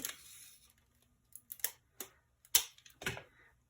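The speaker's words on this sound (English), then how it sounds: "We're going to put down some tape on this piece here." Double-sided tape pulled and pressed down onto a Happy Planner Skinny Mini page, heard as a few sharp, close crackles and peeling rips separated by short quiet gaps.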